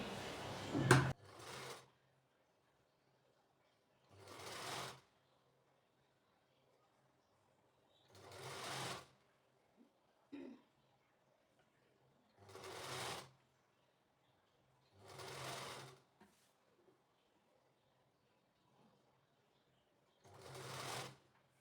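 A domestic sewing machine top-stitching the frill seam on a toddler girl's frock runs in short bursts of rapid mechanical whirring, about seven runs separated by quiet pauses, close and clear.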